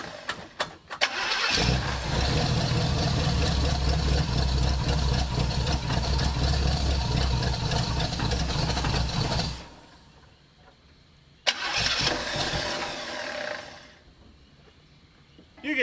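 The engine of a 1968 Pontiac ambulance cranks, catches and runs loudly for several seconds before shutting off, then cranks, fires up and runs again briefly before cutting out.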